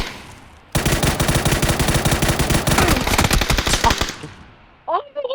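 Rapid automatic gunfire in the video game PUBG, a loud sustained burst of close shots for about three seconds that tails off, followed by a brief voice.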